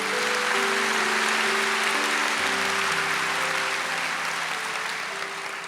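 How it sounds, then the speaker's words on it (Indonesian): An audience at the opening of a GMS church rooftop venue in Surabaya applauds steadily, a dense, even roar of clapping lasting the whole stretch while soft background music plays beneath it. "Sekali lagi berikan sambutan tepuk tangan yang paling meriah."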